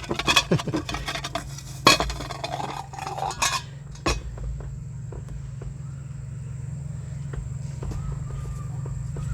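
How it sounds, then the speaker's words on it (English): Metal clinks and scrapes ring out as a small nut is fished from a metal watering pan during a truck repair, several sharp clanks in the first few seconds, then a steady low hum carries on alone. "get my little nut out of my watering pan"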